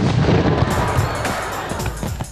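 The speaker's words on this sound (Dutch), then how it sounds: "Om te zorgen dat wij kunnen genieten van al die knallen en vuurpijlen" Fireworks bangs and rockets go off in a dense, overlapping barrage of booms and crackles, loud and continuous with no pause.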